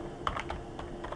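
Close, quiet typing on a computer keyboard, with about a dozen light, irregular key clicks over a low room hum.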